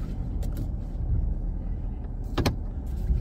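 Pickup truck engine idling and pulling forward while maneuvering in a lakeside state park campground, with a steady low rumble and a couple of brief mechanical clicks or squeaks close by.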